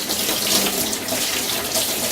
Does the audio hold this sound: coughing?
no